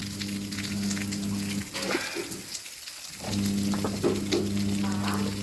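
Onion, garlic and ginger sizzle steadily in hot oil, a loud continuous frying crackle with a brief dip in the middle before the sizzle returns at full strength.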